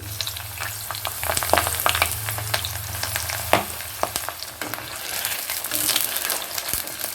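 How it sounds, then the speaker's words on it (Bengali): Eggplant pieces frying in hot oil sizzle and crackle steadily up close, with scattered pops and occasional stirring scrapes. "বেগুনগুলো বেশ লাল লাল হয়ে ভাজা হয়ে গেছে"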